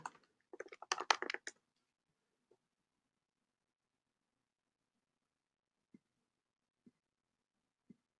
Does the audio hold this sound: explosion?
no